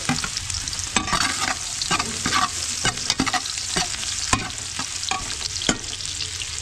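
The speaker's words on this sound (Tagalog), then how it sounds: "mainit na yung ating mantika. So yun, kailangan natin lagay yung ating bawang." Garlic and ginger frying in hot oil, a loud continuous sizzle broken by repeated sharp scrapes and stirs of a spatula against the pan, close up with no talking.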